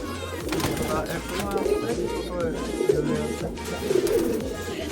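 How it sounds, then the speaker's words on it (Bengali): Tournament racing pigeons coo softly in a loft amid a busy background of voices and movement, the rolling calls recurring throughout. "এই কবুতরগুলো এই টুর্নামেন্টে এইবার আসছে"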